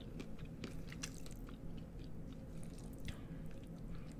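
Close, quiet wet chewing of cheesy noodles with Takis crumbs, soft smacking bites repeating steadily over a low steady background hum, no talking.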